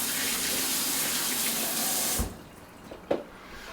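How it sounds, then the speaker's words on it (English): Tap water runs loudly and steadily while yellow squash is rinsed, then shuts off abruptly, leaving a few faint knocks and a brief clatter in a quiet room. "Yellow squash, quick rinse."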